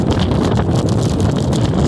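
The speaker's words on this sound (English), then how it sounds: "That's because the wind's hitting me pretty good right now." Steady, loud wind buffeting the microphone while riding a Ninebot Segway ES4 electric scooter in sport mode against the wind, a constant close roar with no talking.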